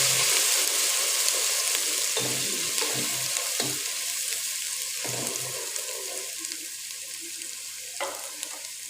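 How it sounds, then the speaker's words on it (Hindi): Garlic frying in a pan for chicken biryani gives a steady, loud sizzle throughout, with occasional stirring scrapes and clatters breaking through at irregular intervals. "तो लहसुन को थोड़ी देर भूनेंगे।"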